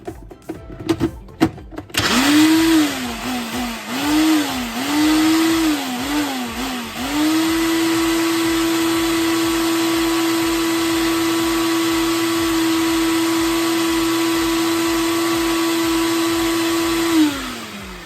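An electric mixer whips a homemade strawberry ice cream mixture, loud and close, its motor whine rising and falling in pulses for a few seconds before holding one steady high drone.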